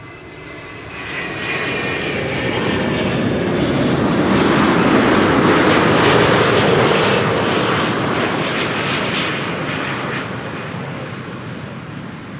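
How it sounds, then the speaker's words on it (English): A Delta Airlines Airbus A330neo arrives at Amsterdam Schiphol from Salt Lake City, its jet engines building from a distance into a loud, steady roar as it passes close, then slowly fading. "This is Delta Airlines Flight 56, arriving from Salt Lake City in Utah."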